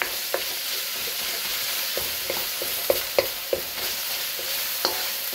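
Dungeness crab is sautéed in a wok with dark soy sauce in the Cantonese style, giving a constant hiss of sizzling oil punctuated by scattered sharp clicks from stirring.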